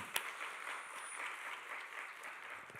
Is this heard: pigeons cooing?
no